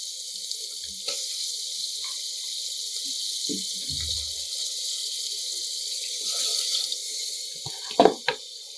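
Hot water streams into Gujarati dal tempered with tomatoes, a thin steady hiss over a low background hum, with a few small clinks and splashes near the end and no talk.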